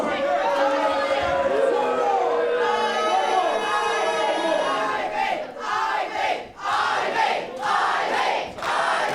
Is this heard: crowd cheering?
yes